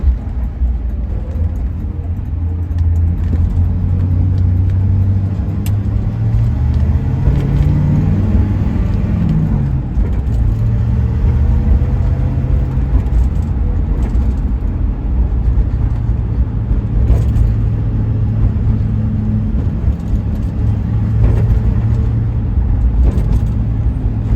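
A 1974 Pontiac Trans Am engine drones low and steady during a ride along, heard from close up. The pitch shifts during downshifts midway, then the engine settles back into a continuous rumble.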